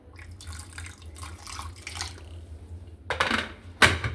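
Warm water is poured for children's milk, a soft splashing trickle under low background noise that builds to a louder pouring burst near the end, with no voices.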